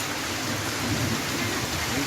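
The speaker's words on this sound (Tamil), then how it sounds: "பல்வேறு பகுதிகளில் இடியுடன் மழை பொழிந்தது" Heavy rain pours steadily across parts of Tamil Nadu, a dense continuous hiss with low rumbling beneath that suggests distant thunder, with no voices.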